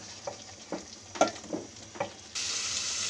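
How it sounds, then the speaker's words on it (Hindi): Chicken and chickpeas fry in oil in a pan, with a steady sizzle broken by several scraping stirs of a spoon, then a louder, denser hiss of frying takes over near the end. "गाइस, ये भुनाई का टाइम है, आप देख लें। अब ये चिकन और छोले जो हैं ये ऑयल छोड़ देंगे ऐसा ऐसा।"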